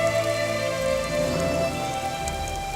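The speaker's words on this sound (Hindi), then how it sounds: "लगता है बारिश नहीं रुकेगी" Heavy rain pours down steadily, a dense continuous hiss of drops drumming on surfaces, loud and unbroken throughout with no voices.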